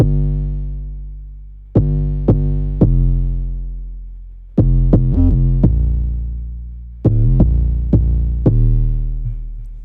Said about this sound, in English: the bass alone sounds like this